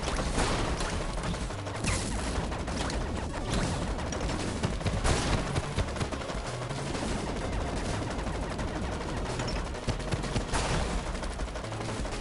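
Rockets and explosions fire continuously in LittleBigPlanet 3 gameplay, a dense, loud barrage of blasts and crashing impacts packed closely together for over twelve seconds with no pauses and no talk.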